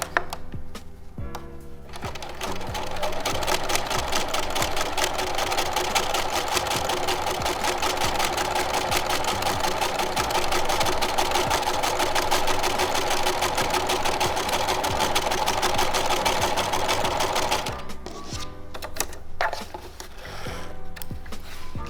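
Sewing machine topstitching white thread along a heavy denim seam, stitching steadily at high speed for about fifteen seconds, with brief slower bursts at the start and finish.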